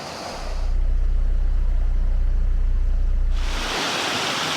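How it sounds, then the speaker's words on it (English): Water cascading down beside a Lapworth canal lock, a steady broadband rush and roar like a small waterfall, loud and continuous with a deep low rumble through the middle of the clip. "Coming down next to the lock. Looks like a waterfall."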